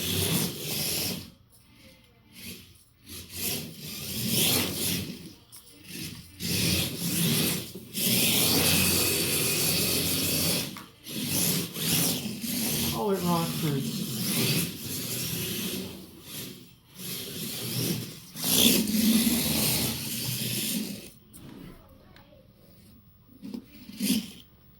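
A 1/28 scale RC drift car with electrical-tape tires slides around a hardwood rec room floor. A close electric motor whine rises and falls in bursts, with hissing tire scrubs between quieter pauses.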